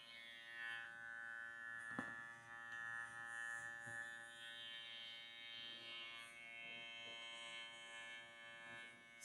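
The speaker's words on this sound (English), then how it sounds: "Just shave some hair off just to get rid of the excess here." Electric clippers shave excess hair from a poodle's tail during a continental trim, making a steady, fairly faint buzzing hum with no talk.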